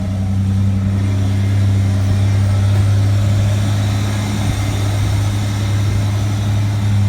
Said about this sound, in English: Truck is running.